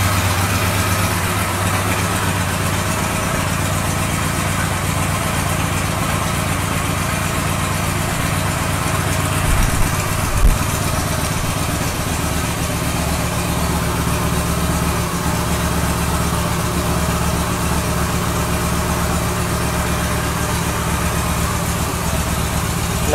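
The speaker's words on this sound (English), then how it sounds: "Nice deep throaty sound. How my motorcycle should sound, am I right?" A 2014 Victory Hammer 8-Ball cruiser motorcycle idles steadily and deeply for the whole stretch, a continuous low rumble with no talking.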